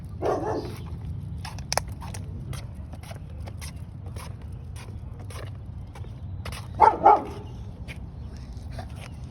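Dogs bark in a couple of short bursts, one near the start and a louder pair later, over steady outdoor background noise without talk.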